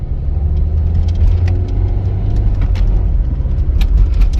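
A Citroën Picasso's engine hums low and steady from inside the cabin while driving, a loud continuous rumble with faint rattles over the top and no voices.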